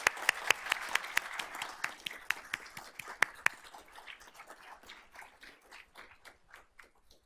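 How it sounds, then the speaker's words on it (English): Applause for student band members at a school district board of trustees meeting, a round of sharp, scattered claps that is dense at first and thins out over several seconds, with no talk. "Let's give this group a round of applause."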